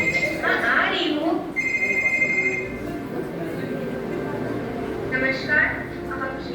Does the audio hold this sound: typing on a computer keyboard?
no